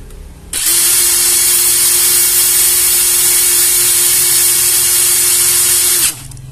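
A Kamolee DTW 700NM cordless impact wrench running on a Samsung battery spins up and holds a steady high whine with a constant motor tone for about five and a half seconds, then stops.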